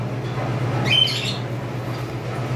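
A single burst of harsh, high sun conure parrot squawking around the middle, fairly close, over a low steady background hum.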